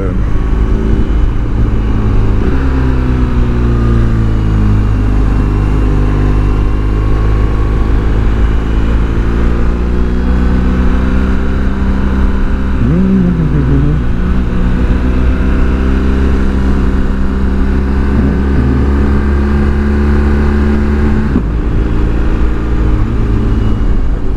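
A steady, loud BMW R1300GS Adventure engine drone rises and falls in pitch as the motorcycle leans through bends, with constant wind rush throughout.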